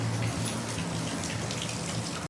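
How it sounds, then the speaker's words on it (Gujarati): Steady rain falls through an evening outside a home, a dense continuous patter of drops with no break, close and fairly loud, ending abruptly. "સાંજે વરસાદ ચાલુ છે બાપરે"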